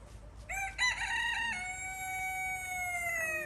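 A rooster crows once, a long, clear call rising and then drawn out, fairly close with quiet surroundings.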